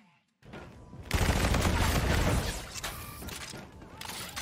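Rapid automatic fire from the E-Rad energy gun in Call of Duty: Infinite Warfare, a dense, loud burst that starts after a brief silence and keeps going to the end of the clip with little break.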